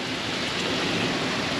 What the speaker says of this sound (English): Guys, look at the rain coming down.